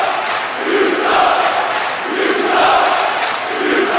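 A hostile Sacramento wrestling crowd chants rhythmically at a wrestler inside a cage match, a loud, dense roar of many voices rising and falling in waves across the arena.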